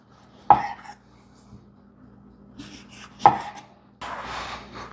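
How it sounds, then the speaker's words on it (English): A knife cuts through a tomato on a cutting board: two sharp, close chops set well apart, with soft handling noise between them and a rougher scraping slice at the end. "I'll slice up the tomato"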